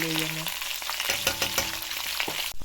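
Peppers sizzle loudly in a hot pan, a dense crackling hiss up close, with a few stirring scrapes.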